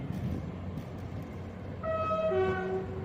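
Train horn from British Rail class 158 diesel unit 158950 at Exeter St Davids station, a multi-tone blast sounding clearly over the station's background rumble in the second half.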